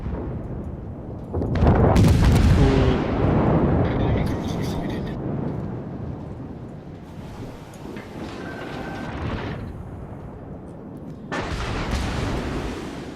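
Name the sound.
warship guns firing in a video game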